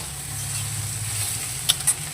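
Onions, potato, eggplant and green chillies fry in a pan with a steady, even sizzle, broken near the end by two brief sharp ticks.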